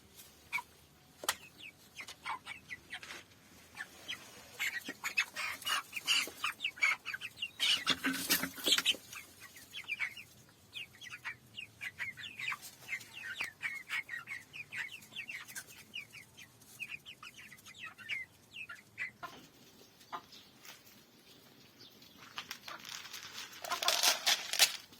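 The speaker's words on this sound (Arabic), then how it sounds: "طبعا دي بقى الفراخ البلدي." Free-range country chickens on a rooftop clucking and murmuring in repeated bursts, some calls louder and nearer, with a few quieter stretches between them.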